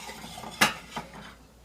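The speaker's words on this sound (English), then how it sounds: "Now we're going to add our meatballs to our sauce." Meatballs spooned into spaghetti sauce, a sharp clink of a spoon against the pot followed by a softer second knock, close and otherwise quiet.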